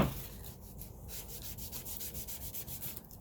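A hand rubs steadily over a painted wooden American flag sign, producing a soft, even scuffing texture in regular strokes, close up and alone with no voices.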